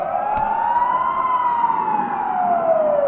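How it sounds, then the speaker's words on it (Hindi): A single wailing air raid siren rises slowly in pitch and then falls back, sustained and loud over a low rumble, with no voices. "अचानक एयर रेड सायरन बजने लगते हैं"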